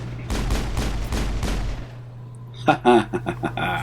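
Rapid bursts of gunfire from the video game Mass Effect, a quick volley of five or six loud shots, followed after a short pause by a voice speaking.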